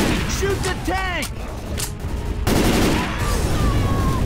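Rapid gunfire blasts at the Tank in Left 4 Dead 2 during a rooftop escape, a dense burst of shots in the first half, then a pause, then another sustained volley, with game voices and effects mixed in.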